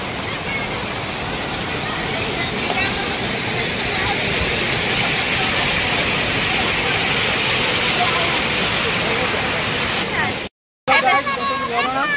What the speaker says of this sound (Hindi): आमर वाटरफॉल केते सुंदर है